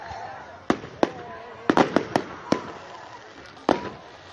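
Fireworks explode at a pirate-themed firework show. Sharp bangs go off one by one and in quick bunches against a low murmur of people.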